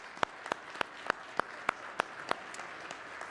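Slow, sparse clapping during a church service honoring veterans, about ten evenly spaced claps that fade gradually, fairly faint in a quiet room.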